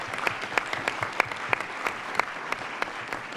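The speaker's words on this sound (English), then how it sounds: "Let's give her a round of applause." A modest audience at a school district board meeting claps in scattered, steady rhythm for a leadership award recipient, the applause fairly faint and thin, with no talking over it.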